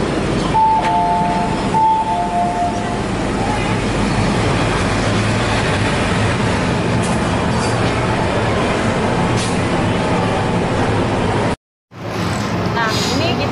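Steady rumble and rattle inside a moving Hong Kong MTR subway car, with a brief electronic chime early on, ending in a sudden cutoff before more noise.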